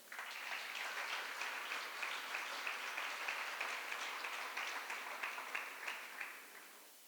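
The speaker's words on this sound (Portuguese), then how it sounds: "Dá uma salva de palmas, irmão" Church congregation claps during a sermon, a faint, thin, steady patter of applause, muffled and distant, running for several seconds before fading gently.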